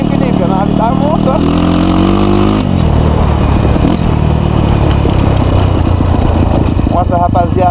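Engine of a Honda CRF off-road motorcycle, running steadily and close with a varying mid-range drone and a few throttle changes, while people talk over it.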